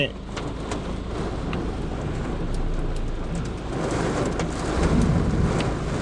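Heavy rain from a summer hailstorm pours steadily with a low rumbling swell of thunder toward the end, heard from inside a parked car.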